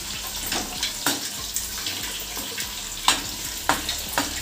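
Chicken frying in hot oil with curry leaves and green chillies, giving a steady watery sizzle punctuated by sharp spitting pops and crackles at irregular intervals, close and moderately loud with no talking.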